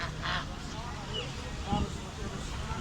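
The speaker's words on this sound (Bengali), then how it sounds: "এখানে অনেক সুন্দর সুন্দর পাতিহাঁস এবং রাজহাঁস দেখা যাচ্ছে।" Ducks and geese honk and quack briefly at a busy poultry market, short nasal calls rising above a low crowd murmur while a person talks close by.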